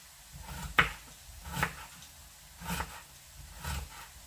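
A knife cutting carrots into thin sticks for plov on a board, four soft separate chops spaced about a second apart, close and quiet.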